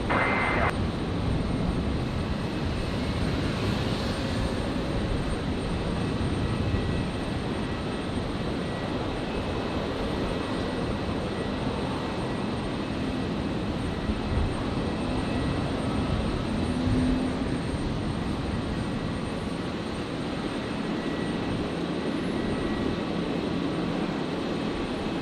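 A plane landing on runway 01 left at Brisbane Airport rumbles with a steady, fairly distant engine roar that holds for the whole stretch, broad and droning, with no voices over it.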